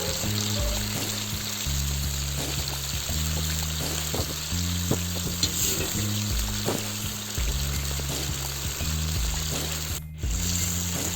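Plov ingredients with raisins fry over high heat, giving a loud, continuous sizzle and crackle that runs steadily throughout, with soft clinks from the pan and no talking.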